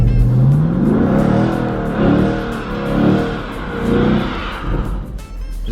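A 2019 Camaro SS V8 revs hard during a line lock burnout, a loud, close, sustained roar that swells and dips in pitch as the throttle is worked, with no talking.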